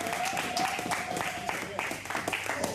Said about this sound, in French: Est-ce qu'on peut maintenant acclamer la parole du Seigneur?